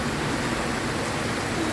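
Rain falls in Muscat, Oman, as a dense, even hiss of steady drops with no pauses or voices, close and fairly loud.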